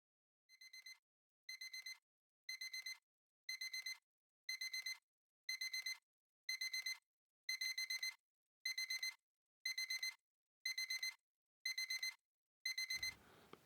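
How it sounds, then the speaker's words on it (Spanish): An alarm clock rings in a steady series of about thirteen evenly spaced electronic beeping bursts, loud and insistent, before a low rustle at the end. "El despertador. Era su molesto sonido."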